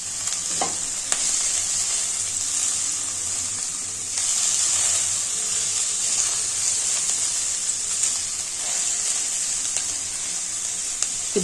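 Cabbage cooks in a pan without added water, giving a continuous close sizzle and hiss with occasional stirring scrapes, steady throughout and with no one talking.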